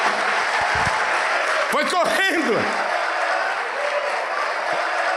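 A church congregation applauds continuously during a worship service, a broad bed of clapping that runs throughout while a preacher's voice speaks briefly over it.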